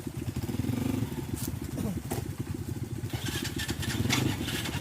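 A motorcycle engine runs close by with a rhythmic, chugging idle pulse that holds steady throughout, with a few brief clatters layered over it.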